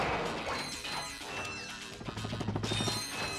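Wooden crates smash in the Ratchet & Clank video game, several quick crashing breaks and thwacks followed by rattling bolt pickups in a busy rhythmic burst, with no talk.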